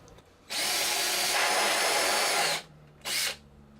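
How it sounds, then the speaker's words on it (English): A power drill scores holes into the underside of an arcade cabinet control panel, with one sustained whine of about two seconds, a pause, then a short second burst, loud and close with no talking. "I'm going to score the bottom so that way when I'm drilling from the top down, it doesn't blow out the bottom as much"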